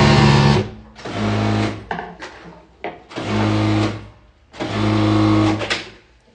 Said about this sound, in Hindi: उसकी स्टिचिंग दिखाई जा रही है आप लोगों को